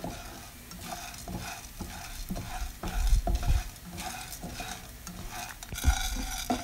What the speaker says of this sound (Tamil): ஒரு ஸ்பூன் ஆயில் உளுந்தும் கடலப்பருப்பும் போட்டு நல்லா வறுத்து எடுத்துக்கலாம்